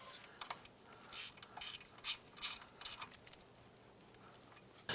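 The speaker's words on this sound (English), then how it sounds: "we are going to use our 7mm and going to tighten down this bolt right here" A 7mm ratchet tightens a bolt on a front brake bracket of a 2003-2012 Chevrolet Colorado, several short faint clicking bursts in a quiet garage.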